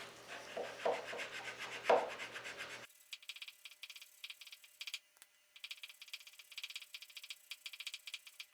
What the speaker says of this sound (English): I'm going to use this file and just make sure that I flatten this edge out before I take a measurement